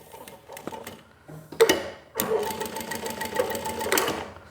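An industrial walking-foot sewing machine, model 1903SX, stitches forward and backstitches, starting with a few scattered clicks and a sharp clunk, then settling into a steady, fairly loud mechanical run.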